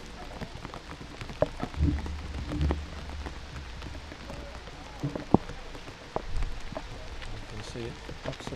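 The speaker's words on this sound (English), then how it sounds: "it is getting quite heavy now, this rain." Heavy rain pours down on an outdoor cricket ground in a dense, steady hiss of drops, with occasional thumps and a voice speaking faintly beneath it.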